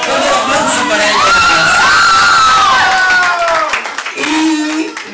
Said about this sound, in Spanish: Todo aplauso para ella.